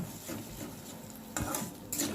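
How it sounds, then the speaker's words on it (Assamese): A spoon stirs paneer masala in a kadhai over a low gas flame, producing soft scraping and light clinks against the pan over a quiet background hiss, with a couple of sharper metal taps near the end. "এনেকৈ ধুনীয়াকৈ লৰাই থাকিব যাতে কেৰাহীত লাগি নাযায়।"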